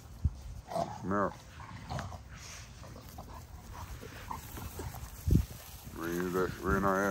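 Dog barking and yelping around a home where chickens are kept, a few sharp harmonic bursts near the start and a louder run of whining barks at the end, over background noise.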